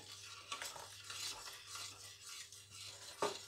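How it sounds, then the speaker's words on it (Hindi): Spoon stirring custard in a pot over a low flame, with soft repeated scrapes and clinks against the metal, a steady low hum underneath, and one sharper knock near the end. "इसको हिलाते रहना मुसलसल चम्मच को ताकि हमारी गुठली ना बने।"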